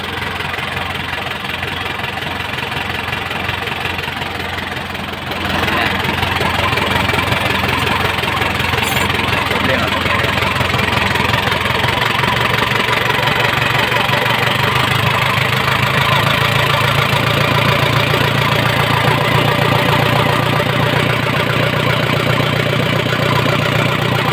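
A car engine with delayed RPM response and poor throttle response cranks and catches at about five seconds, then settles into a steady, loud, close idle with no talking.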